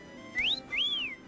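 Two short rising-and-falling whistles from a Pagie character in the Yooka-Laylee video game, clear and close with a brief gap between them.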